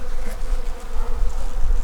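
Honey bees swarm around an opened hive during a beekeeping inspection, a dense, continuous close-range buzz with no talking.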